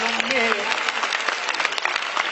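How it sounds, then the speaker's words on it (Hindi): Audience applause at a Hindi comedy poetry show at IIT Kharagpur: steady, dense clapping from a large crowd, sustained and loud throughout the short stretch, with no talk over it. "जरा तालियां झूम के हो जाओ एक बार"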